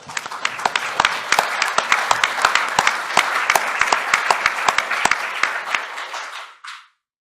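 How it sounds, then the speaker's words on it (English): An audience at a rail passengers association meeting breaks into sustained applause, many hands clapping densely for about six seconds before fading out quickly. "you need to give yourselves a round of applause for that"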